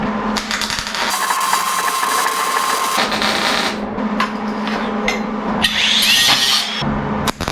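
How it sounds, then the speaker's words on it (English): Welding on a VW Baja Bug body in a home garage: a steady, loud, dense crackling buzz that runs almost unbroken, with a few sharper bursts and brief dips near the end. "Just gonna weld this one up and then I'll break that one off and level it out."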